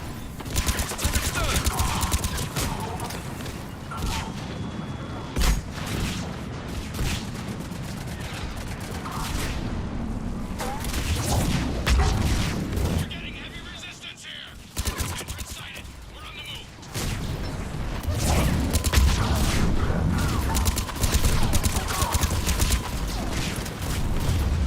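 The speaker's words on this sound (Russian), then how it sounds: "а что за взрывы вокруг" Gunfire and explosions in the video game Mass Effect form a dense, continuous barrage of rapid shots and booms. Battle noise stays loud throughout, easing briefly midway, with voices talking underneath at times.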